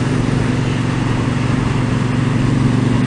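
A Triumph Bobber motorcycle engine while riding, a steady, loud, continuous drone with constant rumble and wind noise, no talking heard.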